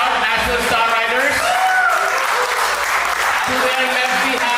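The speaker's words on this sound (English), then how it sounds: "Guys, big round of applause for BSK." A crowd at a live cricket league auction applauds a team, steady clapping mixed with cheering voices and talk from people nearby.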